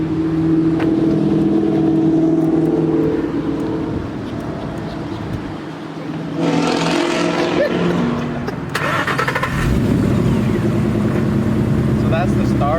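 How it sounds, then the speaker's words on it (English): A 2012 Ford Mustang with the 5.0 engine, already warm, idles with a steady rumble, then gets two sharp revs that swell and fall back to idle. "Go ahead and turn on the car, and then we're gonna give it a couple of little revs so that way you guys can hear it"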